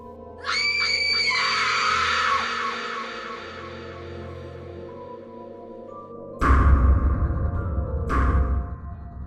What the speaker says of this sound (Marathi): रितिका दचकून मागे मागे गेली भिंतीला चिकटली मटकन खालीच बसली आणि प्राणांतिक किंचाळली